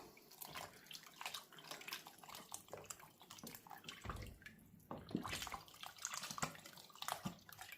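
Chicken stock poured steadily into a pot over a ham hock for baked beans, a continuous close splashing liquid stream with small bubbling and clinks, no talking.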